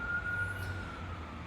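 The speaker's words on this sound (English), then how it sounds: "cool siren goes by?" An emergency siren passes at a distance, a faint steady wail over low background rumble, ending in a brief louder knock.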